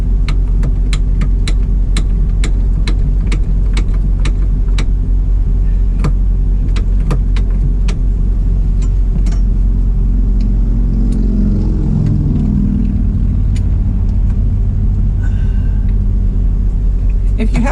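1977 FC33 Wanderlodge bus with its diesel engine running, a steady loud low rumble with a regular clatter of ticks over the first half, loudest close by; faint voices occasionally mix in.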